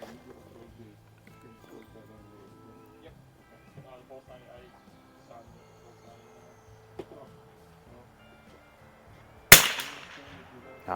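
A Lakefield model 91T .22 LR target rifle fires one subsonic round at an outdoor range: a single sharp, fairly loud crack with a short decaying tail, after a stretch of quiet low background sound.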